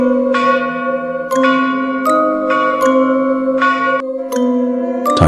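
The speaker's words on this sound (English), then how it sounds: "Then suddenly, a loud bell rang through the building." A loud electric school bell rings in repeated bursts inside a building, several strikes in succession with a metallic, ringing tone and no talking.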